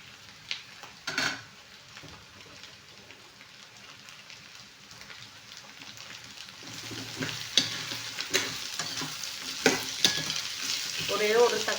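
Onions, both small shallots and large ones, sizzle steadily in a pan, with soft scraping stirs growing busier toward the end, no one speaking.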